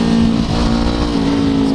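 A Honda CBR 500 R 2016 sport motorcycle with a small engine accelerates on an open road, a loud steady engine drone with a rising harmonic whine, close and continuous, without talk.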